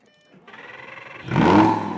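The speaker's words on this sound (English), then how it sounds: "It's a Lamborghini, so we should fire it up, shouldn't we? The V10." A starter motor whirs briefly, then the naturally aspirated 5-liter V10 of a Lamborghini Gallardo Spyder catches and roars loudly to life, settling into a strong, rumbling idle.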